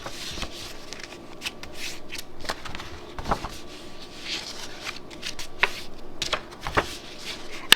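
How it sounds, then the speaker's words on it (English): Paper envelope folded along its score lines for a handmade gift card holder, a series of close crisp creases, rubs and light taps scattered irregularly over several seconds. "we're just gonna fold on the score lines"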